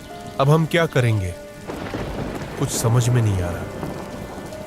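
Heavy rain with thunder in a farming village during a storm: a dense, continuous downpour under rolling thunder, loud and close, while people talk over it.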